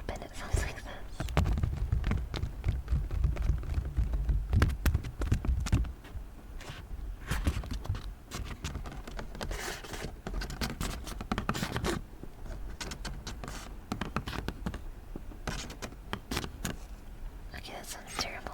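A folding hand fan is opened and waved: soft rustling and papery swishes, with a louder flurry of low fluttering in the first few seconds, then lighter scraping and flapping continuing steadily.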